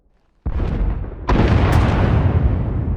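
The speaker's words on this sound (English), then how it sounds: "Sounds like the bombing's getting closer." After a brief silence, a heavy explosion booms in, followed by a second, louder blast that leaves a sustained rumbling roar, like game battle effects, from bombing in a Star Wars-style Separatist battle.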